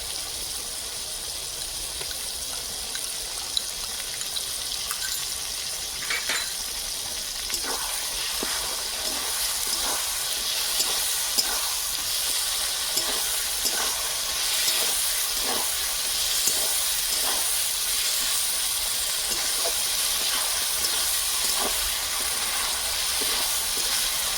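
Ginger paste sizzles steadily in hot oil in a frying pan while a spicy Bengali chicken kosha cooks, a constant loud hiss with small crackling spits and no talking.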